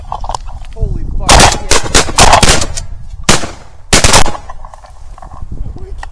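Loud, close gunshots ring out in a hunt, a few sharp reports spaced over several seconds with excited voices and outdoor background between them.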